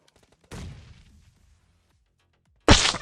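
Gunfire in the mobile battle royale game PUBG Mobile, with an M24 sniper rifle in play: two separate sharp bursts, the second louder and closer, with quiet gaps between them.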